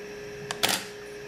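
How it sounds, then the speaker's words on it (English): An intervalometer fires a camera shutter, giving a sharp double click of a single shutter release, a short tick and then a louder snap, close up in a quiet room. "now it's taking a picture every 4 seconds"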